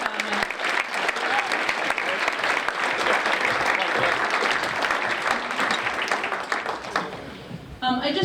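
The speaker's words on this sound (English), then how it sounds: "I hope you will give a round of applause for No Place for Hate Falmouth." Sustained, dense audience applause fills a room at a Martin Luther King Jr. community breakfast, loud and steady for about eight seconds before tapering off at the end.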